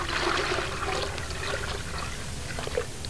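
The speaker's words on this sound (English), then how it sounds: "I'll add some clean water to that" Clean water pours steadily into a half-filled bucket of liquid-rubber mix, a close, continuous splashing trickle that runs throughout with no talking.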